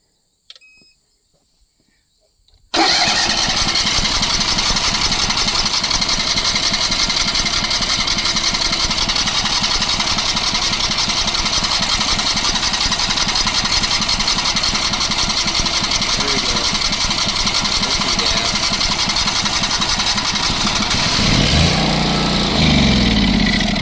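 An abandoned crane's engine cranks over after a couple of seconds of near silence, catches and runs steadily and loudly at a rough mechanical idle for about twenty seconds, with a brief change near the end.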